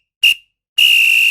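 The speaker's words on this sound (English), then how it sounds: "there goes the final whistle" A referee's whistle gives a short, sharp blast, then a pause, then a longer, shrill, steady blast that stays close and loud with nothing else around it.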